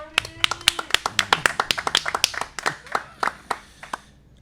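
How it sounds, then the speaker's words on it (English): A woman claps alone, a string of sharp, close hand claps at an uneven pace that thins out toward the end, with no other sound competing. "There was her clapping"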